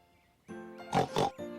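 A pig grunts and oinks in a few quick, close bursts after a brief quiet start, with no talking.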